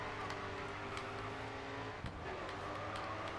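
A car drifts in the racing game Grid 2, its engine droning steadily with faint tire noise and a brief thump midway, quiet and continuous with no talk.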